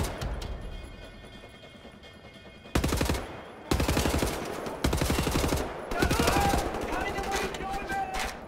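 Automatic gunfire in Wolfenstein: The New Order: several loud, rapid rattling bursts from an assault rifle, each lasting about a second, separated by short pauses, with game ambience and a voice speaking underneath.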